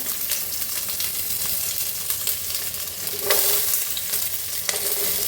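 Chopped onions frying in hot oil, a loud, dense, continuous sizzle with a few stirring scrapes and bursts of crackle near the pan, with no one speaking.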